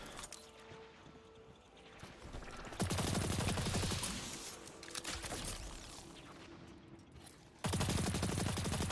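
Rapid SMG fire in a video game, bursts of automatic shots at moderate loudness, with a louder sustained burst late in the clip amid other game effects.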